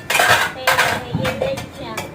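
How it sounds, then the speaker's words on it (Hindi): Metal pots, pans and utensils being scrubbed and washed by hand, close clattering and clinking of metal on metal in several quick bursts, with scraping between. "मैं लग गई बर्तनों पे"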